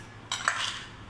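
A spoon clinks against ice in a glass while a honey citron soda drink is stirred, a short bright clatter with a couple of ringing taps, close and clear.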